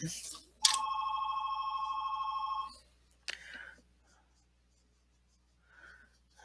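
A telephone rings in a quiet room with a single long electronic trill lasting about two seconds, followed by brief rustling and a faint voice.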